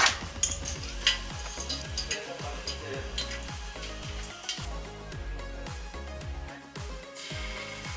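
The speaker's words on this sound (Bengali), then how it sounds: "অল্প একটু সাদা তেল দিই, তাতে শুকনো লঙ্কা, মরিচ আর তেজপাতা ফোড়ন দিই।" Dried red chilies, pepper and bay leaves sizzle in a little white oil in a pan, the crackle steady and soft up close, with repeated scraping strokes of a stirring utensil.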